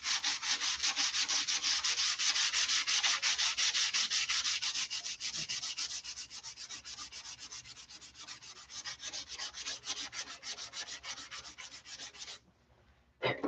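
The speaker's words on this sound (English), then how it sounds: "All this rubbing." Dope-finished surface rubbed and sanded by hand, a close, loud, rapid back-and-forth scratching rasp that continues steadily, briefly pausing near the end before resuming.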